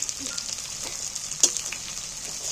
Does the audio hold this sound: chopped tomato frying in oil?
yes